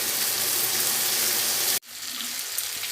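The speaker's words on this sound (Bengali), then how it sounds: "ওল দিয়ে আলু দিয়ে আর একটু ভালো করে কষিয়ে নেব" Elephant foot yam and potatoes fry in a pan with a loud, continuous sizzle that cuts off abruptly partway through, then returns as a softer, steady crackle.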